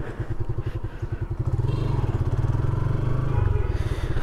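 A new Suzuki motorcycle engine thrums in fast, even pulses on a test drive, close and loud, the beat rising slightly as it pulls away, with some faint clatter.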